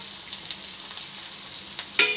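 Chicken lollipops fry in hot oil with a soft, steady sizzle and crackle, and a sharper pop or splash near the end. No voices are present.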